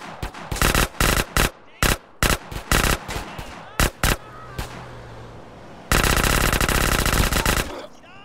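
Gunfire in GTA San Andreas rings out in loud, sharp bursts: repeated automatic shots separated by brief gaps, then a sustained stretch of rapid fire near the end.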